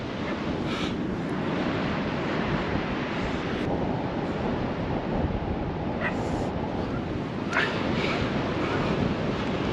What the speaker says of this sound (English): The waves are unreal.